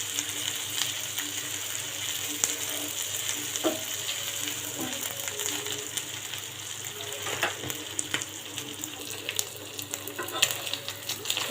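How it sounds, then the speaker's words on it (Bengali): Spiced meat being dry-fried in a pan with no water left, cooked down kebab-style for a Bardhaman bhuna, giving a steady close sizzle broken by scraping and stirring clicks with no talking. "আমি এটা চাইলে একদম কাবাবের মতো ভাজা ভাজা করে নিতে পারবো"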